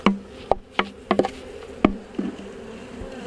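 Honey bees being brushed out of a box while installing a nuc, giving a series of sharp rustling brush strokes with agitated buzzing between them, close and loud.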